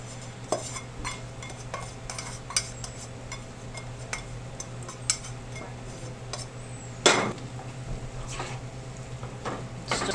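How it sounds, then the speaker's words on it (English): Pasta being stirred into a pot with potatoes, onion and salt for pasta piselli, heard as scattered clinks and scrapes of a spoon against the pot, one sharper knock near the end, over a steady low hum. "Stir that all together."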